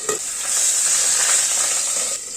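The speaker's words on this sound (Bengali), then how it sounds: "তেলটা গরম হয়ে এসছে, পাবদা মাছগুলো ছেড়ে দিচ্ছি।" Pabda fish frying in hot mustard oil give off a loud, steady sizzle with a bright hiss that holds for the whole stretch, close and without talk.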